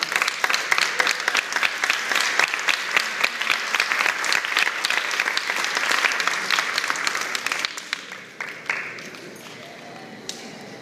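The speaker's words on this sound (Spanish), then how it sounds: "Fuerte el aplauso para él." An audience applauds an award recipient honored for a career in journalism, with dense, sustained clapping from a large crowd that thins and fades toward the end.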